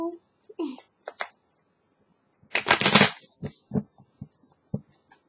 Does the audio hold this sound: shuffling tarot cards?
yes